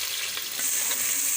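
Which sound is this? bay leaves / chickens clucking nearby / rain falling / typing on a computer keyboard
bay leaves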